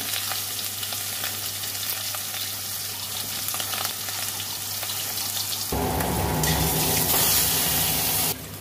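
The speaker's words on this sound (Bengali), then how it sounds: "লবণ হলুদ মাখিয়ে নিয়েছি, মাছটা ভাজে নেব" Two pieces of fish coated in salt and turmeric fry in hot oil, giving a loud, steady, close sizzle that grows harsher and brighter partway through, with no voices.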